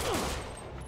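Gunfire from armed thugs in a Spider-Man video game, a dense fusillade of shots rattling loudly and continuously through the whole moment without any talk over it.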